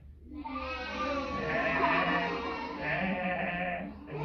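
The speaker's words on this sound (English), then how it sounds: "what sound does a goat make?" A goat bleats in one long, wavering, voiced cry that swells and fades over several seconds, heard clearly and up close with no talk over it.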